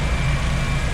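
Steady low rumble of a K24 turbo engine idling in a Honda EK hatch, close by and unbroken for a brief moment.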